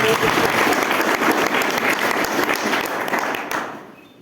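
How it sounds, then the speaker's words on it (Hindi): An audience at a business seminar breaks into loud, dense clapping that holds steady for several seconds and then tapers off quickly near the end. "एक बार बजाओ ताली जरा।"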